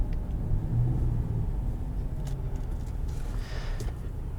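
A 2018 Ford F-150 Sport EcoBoost engine running while driving, a steady low rumble and drone heard from inside the cab, even and moderately loud, with no speech.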